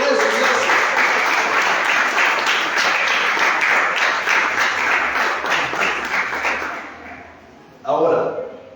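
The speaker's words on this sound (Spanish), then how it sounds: "Denle un fuerte aplauso a Dios por eso, iglesia." A church congregation claps loudly and steadily, the applause tapering off before a short final burst at the end, with a voice audible beneath it.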